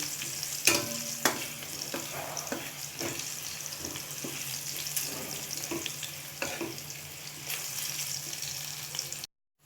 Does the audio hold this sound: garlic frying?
yes